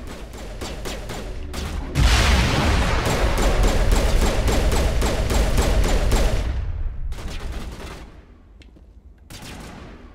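Rapid gunfire in Mass Effect Legendary Edition crackles in loud, dense volleys, with sharp separate shots before and after a sustained burst of several seconds.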